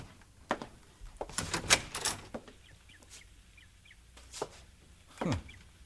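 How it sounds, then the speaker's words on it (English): A front door opens as a 1956 CBS radio drama sound effect, heard as a series of clicks, rattles and a scraping swing, fairly faint and spread over several seconds, with a sharp thud near the end. "Bill, someone's at the door"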